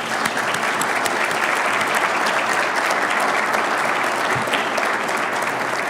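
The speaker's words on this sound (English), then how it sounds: "If we could get them a round of applause," Audience applause for scout leaders at a Troop 226 Eagle Court of Honor: dense, steady clapping from a crowd that fills the whole stretch at an even level, with no voices over it.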